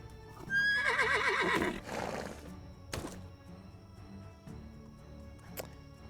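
A horse in the Medieval Dynasty game gives a loud, close whinny. Scattered clip-clop hoof sounds and a few sharp knocks follow as the ambience quiets.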